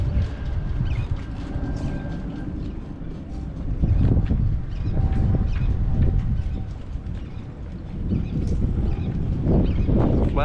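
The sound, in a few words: wind blowing outdoors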